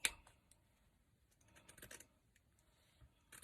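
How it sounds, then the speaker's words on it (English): Scallop-edged craft scissors cut through paper for a wreath flower center, giving a quiet series of soft crisp snips and clicks close by with no talking. "I'm going to take my scallop scissors that I got here, and I'm going to just cut all the way down."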